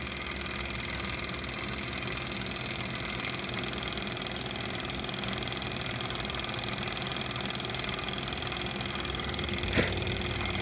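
A small hot-air Stirling engine model with a flywheel whirs in a continuous, even mechanical hum, steady and uninterrupted throughout.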